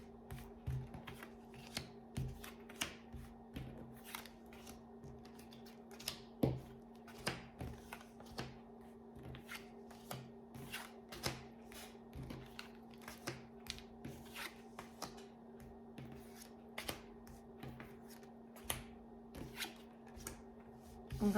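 Tarot cards being shuffled by hand for a 15-card spread, giving a run of soft, papery riffles and light taps repeating steadily over a faint constant hum, close and fairly quiet, with no talking.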